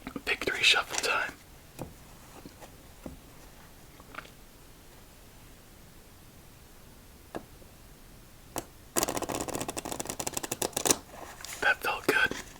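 Two bursts of playing cards being riffle-shuffled, the first short and the second longer and louder, separated by a quiet stretch with a few faint ticks.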